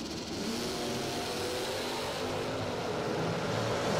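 A Mopar and a Ford Mustang door slammer drag car launching at a drag racing nationals event, a loud, continuous engine roar heard from the track with no voices.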